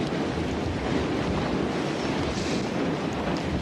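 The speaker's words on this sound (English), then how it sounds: "it's windy enough we could blow back to Austin" Strong wind roars in a steady, loud broadband rush that buffets the microphone continuously, with no voices over it.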